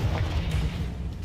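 A Confringo explosive spell blast from Hogwarts Legacy, a sustained low rumbling boom that stays loud and dense across the short stretch with no voices over it.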